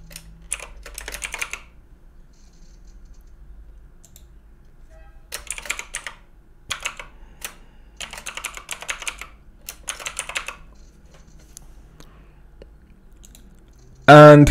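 Bursts of keystrokes on a computer keyboard come in several separate runs, close and fairly crisp, with pauses between them and a louder thump at the very end.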